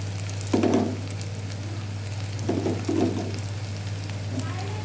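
Onion, ginger and garlic frying in a pan for palak paneer as turmeric powder goes in, a soft steady sizzle with a few brief stirring scrapes, close by under a constant low hum.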